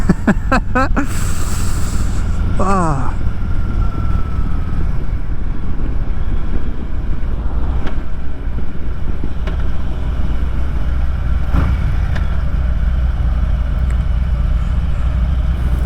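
A Harley-Davidson Heritage Classic with the 114 engine cruises along, its steady low engine drone running continuously beneath heavy wind rush, with no talking.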